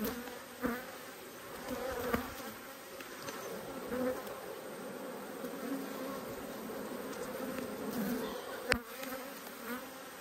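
Honeybees buzz steadily and fairly close throughout a hive inspection during a nectar flow, a dense continuous drone with a few brief knocks from handling the frames.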